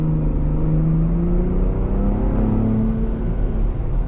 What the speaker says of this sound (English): It's a engine that really gives you instantaneous acceleration, not a lot of turbo lag whatsoever.